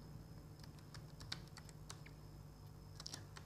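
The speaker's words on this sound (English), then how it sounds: "now after that we will type another command" Computer keyboard keys are pressed in irregular, light clicks and short bursts while a command is typed. The clicks are quiet and close over a low steady hum, with no talking.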